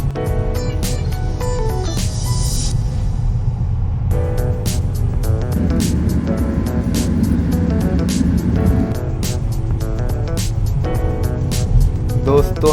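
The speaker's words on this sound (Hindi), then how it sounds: "कपिल बहुत अच्छा ड्राइव करता है और अभी गाड़ी का स्पीड है 130" A car cruises on a highway at a speed of 130, a continuous low road and engine rumble heard from inside, with sharp clicks and other sounds layered over it.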